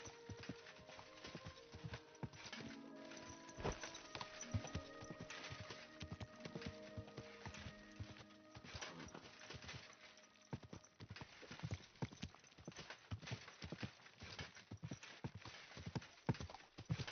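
Horse hooves clip-clop steadily in the medieval role-playing game Kingdom Come: Deliverance 2, a fairly close, even walking rhythm that continues throughout, with soft ambient game sounds in the background.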